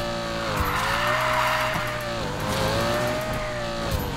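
A car drifts in a racing video game, its engine droning at sustained revs while tires squeal continuously through the slide, loud and close throughout.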